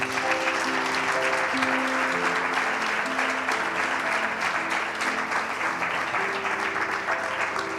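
A crowd applauds steadily over sustained musical tones, clapping dense and continuous from start to finish.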